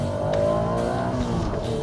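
A first-generation Honda NSX engine revs high and smooth, a loud close buzzing tone that climbs and holds briefly, with no voices.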